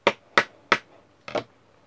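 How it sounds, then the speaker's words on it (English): Metal hammer taps on a Tamiya Mini 4WD propeller shaft pinion with a repair tool, three sharp, close, evenly spaced strikes and then a softer double hit after a short pause, with no voices. "Let's keep hammering it."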